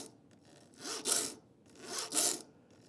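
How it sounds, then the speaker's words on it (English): A file rasps across the teeth of a hand saw being sharpened from one side only, giving two distinct, rhythmic strokes with brief quiet gaps between them, close and moderately soft. "we're filing this saw from one side only"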